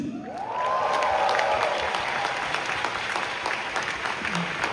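Audience applause at a corporate Amway business update, a dense, loud wash of clapping that swells quickly and holds steady, with a faint cheer near the start.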